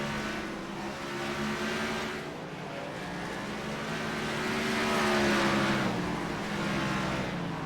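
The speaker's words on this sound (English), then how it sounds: "Brian Hewitt has gotten the car repaired, is back out on track" C12 Gen 4 race cars roar around the North Wilkesboro short track, a continuous loud engine drone that swells and fades as cars pass, with no talking over it.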